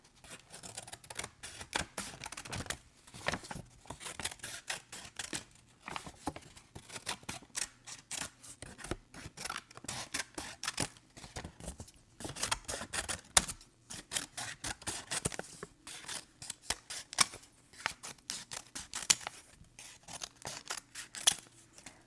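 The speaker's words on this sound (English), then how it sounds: "Scissors." Scissors snip steadily, a long run of crisp, close clicking cuts in an uneven rhythm, with no talking.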